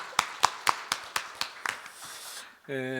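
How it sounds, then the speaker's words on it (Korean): A congregation at a Wednesday Won Buddhist service claps together in a steady rhythm of sharp, evenly spaced beats that fade out. A voice or tone rises right after. "날씨 부처님께도 박수 한번 치겠습니다"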